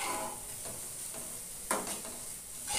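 Shushni greens cooking in a pan and being stirred, a faint soft sizzle with a few light scraping strokes, one slightly louder, over a short quiet stretch without voices.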